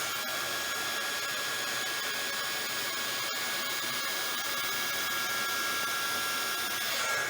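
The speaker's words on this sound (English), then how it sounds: "Now I'm going to go with my heat gun straight up and down, 90 degrees to my canvas," A heat gun blows hot air over a painted canvas, making a steady, loud whooshing hiss that runs unbroken for the whole stretch.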